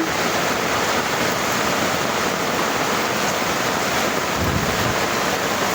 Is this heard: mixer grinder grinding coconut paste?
no